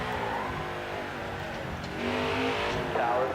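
Engine of a Toyota Supra race car in NASCAR Heat 5 on the Road America road course, a steady droning roar with rising revs near the end, continuous and mid-distance under a faint commentary voice.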